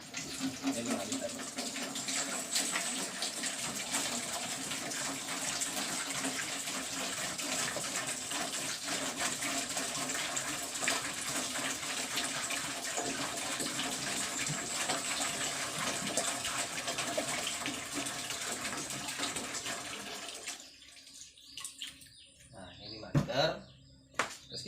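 Five liters of clean water pour steadily into a container, a continuous rushing splash for about twenty seconds that then stops abruptly, leaving a few faint knocks and handling sounds.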